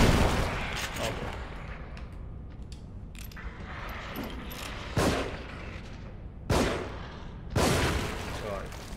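Gunshots in the survival horror video game The Evil Within, several loud sharp blasts spaced a second or more apart over a noisy game soundscape, with a player talking between shots.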